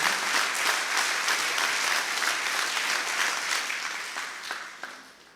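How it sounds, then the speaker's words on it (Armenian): A crowd gives loud, sustained applause in support of the Armenian Apostolic Church at a political gathering in Vagharshapat, a dense clapping wash that slowly thins and fades toward the end. "ես առաջարկում եմ բարձր ծափարություններով մի հատ աջակցենք մեր հայ առաքելական եկեղեցուն"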